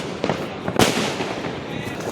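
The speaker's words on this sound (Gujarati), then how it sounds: "તમે તો જબરા ફટાકડા ફોડો છો ને" A sharp Diwali firecracker burst cracks out once, followed by crackling and a noisy outdoor bustle with voices in the background.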